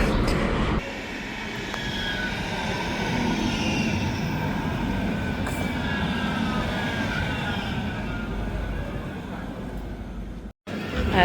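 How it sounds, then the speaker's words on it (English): A tram pulling into a city-centre tram stop in Manchester: a steady, loud rumbling roar with rail squeal and hiss held across the whole stretch, cutting off sharply near the end. "Just arrived at the tram stop, and tram's due in 1 minute."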